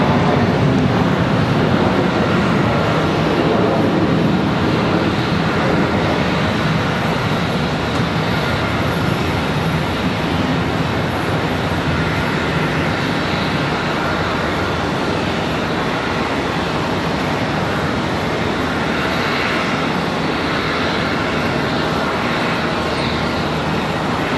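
An AirCal airliner at Charlotte Douglas International Airport gives off a steady, loud jet roar that holds broadband and constant across the whole stretch, with no voices.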